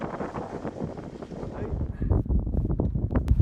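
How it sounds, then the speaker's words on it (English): Steady wind buffeting a sailboat heading upriver in an easterly breeze, a broad rushing roar with rumbling gusts against the microphone, close and continuous. "Sailing up the Bewley with an easterly wind."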